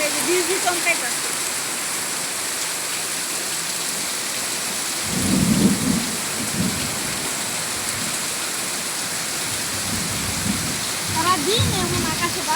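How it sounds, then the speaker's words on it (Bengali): Heavy evening downpour with thunder and lightning during a rainstorm: a steady roar of rain on surfaces throughout, broken by deep rolling thunder rumbles around the middle and again near the end. "আকাশে যে বিজলি চমকাইতেছে।"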